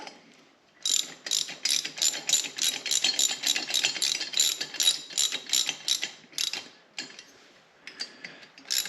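A ratchet tightens bolts on a Yamaha PW50 motorcycle in quick bursts of crisp, close clicking with brief gaps between strokes, loud and alone with no voices.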